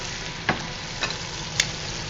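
Fresh minced garlic sizzling in a frying pan, a steady close hiss of frying with a few faint clicks of stirring through the short stretch.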